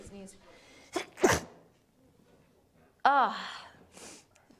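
A sharp sneeze bursts out near the start, followed by a brief sigh-like breath and a short vocal sound, close and clear.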